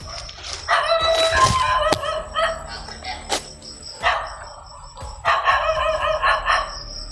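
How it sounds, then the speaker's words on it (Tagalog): Several dogs barking at a distance in repeated bursts, with a rooster crowing among them, outdoors. "May pinakawalan silang aso dito mga idol."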